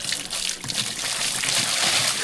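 Water pours and splashes continuously as someone is bathed in Mindanao, a close, bright trickling gush lasting a couple of seconds with a faint voice in the background.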